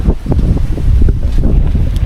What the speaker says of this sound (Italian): Poi è bello perché si sente scricchiolare tutti gli alberi visto che c'è vento.